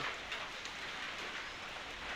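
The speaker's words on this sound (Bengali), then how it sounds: "তোমরা সবাই দেখুন বৃষ্টি হচ্ছে, কি পরিমাণে বৃষ্টি হচ্ছে" Heavy rain falls in a dense, steady wash of noise, fairly faint and even throughout, with scattered louder drops against a surface.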